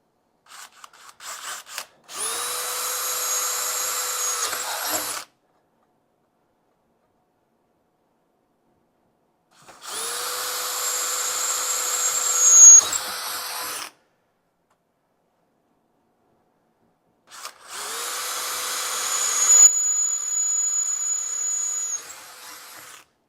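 Three separate bursts of a drill boring into steel with a Diablo Metal Demon bit: a steady whining motor with grinding that rises as the bit bites, separated by silent pauses and no talking.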